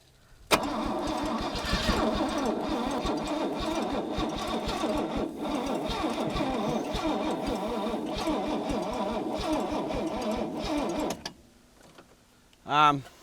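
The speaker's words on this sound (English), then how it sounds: "I'll get the pump running. And do you want to see if it starts?" An abandoned old Mercedes-Benz with cylinders suspected half seized is cranked by the starter for about ten seconds, a rapid labored rhythmic churning that never catches, then stops; a voice is heard briefly at the end.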